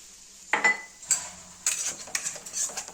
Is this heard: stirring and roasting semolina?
yes